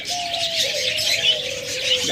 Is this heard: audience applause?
no